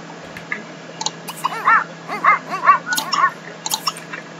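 A dog in The Sims 3 gives a series of short yips and whimpering barks, spread across a few seconds over a steady game-music background hum.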